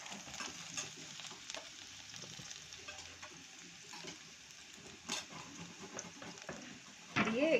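Chopped garlic and bay leaf sizzle in hot oil in a wok for egg curry, a soft steady crackle with occasional stirring clinks and a sharper scrape near the end.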